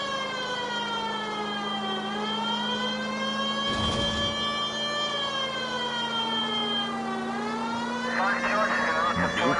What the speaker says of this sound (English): we've got the siren on